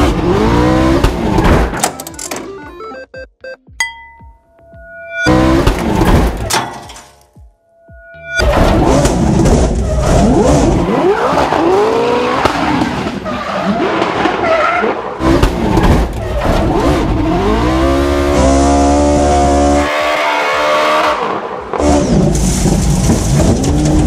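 Toyota GT86 fitted with a Ferrari 458 engine drifting, loud screaming engine revs and tire squeal in bursts broken by brief gaps, with voices talking over parts of it.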